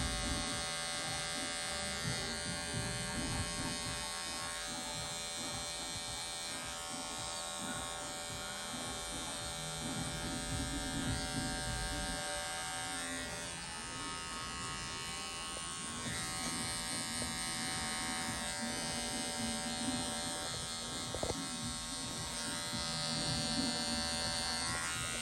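Electric hair clippers buzz steadily and close by as they cut a classic haircut with a taper fade. The motor drone barely changes and runs continuously without talk.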